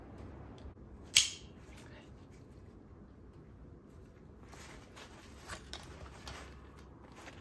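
A military-spec tactical zipper on a Granite Tactical Gear hip pack made in the USA is worked open and closed. A sharp close click comes first, then several quiet raspy zipping pulls against a faint background hiss.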